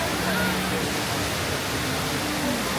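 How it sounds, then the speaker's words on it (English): Jewel Changi's indoor waterfall in Singapore, the world's tallest, roars as a dense, steady wash of falling water, loud and unbroken throughout, with faint crowd murmur blended underneath. "The world's tallest indoor waterfall."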